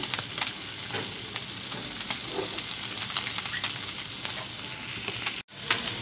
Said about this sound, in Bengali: এরপর আমি মাছ ভাজি করতেছি।